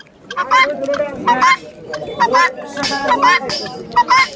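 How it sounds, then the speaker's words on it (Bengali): Loud, harsh honking calls from guineafowl repeat in quick bursts close by at a bird market, with people's voices mixed in among the cries. "এখানে এক জোড়া তিতির পাখি, তিতির মুরগি"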